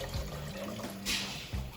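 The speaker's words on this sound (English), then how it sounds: "we're gonna add our 4 cups of broth to the broth, and then 8 cups of water" Water is poured into a pot of vegetable broth for homemade ramen, a close, steady liquid rush with a brief brighter splash partway through.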